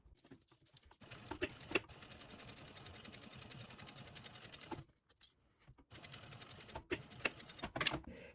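Sewing machine top stitching a fabric panel for a laptop shoulder bag: rapid mechanical stitching runs in bursts of a few seconds, separated by brief pauses and small clicks, fairly close and moderately quiet.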